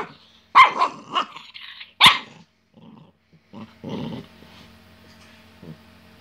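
A small dog stuck in a quilt barks sharply several times, then growls low and close with a couple of short yips, ending in quieter rumbling.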